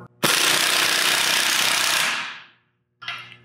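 An air impact wrench running on a metal fabrication job hammers out a loud, rapid rattling burst for about two seconds, winds down, then gives a brief second burst after a pause.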